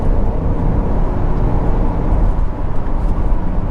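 A 2009 Honda CR-V 2.0 i-VTEC EX accelerates on an open road, with a steady, loud engine drone and road rumble running close and unbroken throughout.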